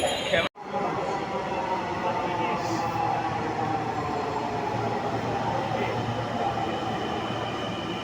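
A Dhaka metro train running between Agargaon and Dhaka University, heard from inside the carriage as a steady, loud rumbling roar with a brief dip near the start, while passengers talk underneath.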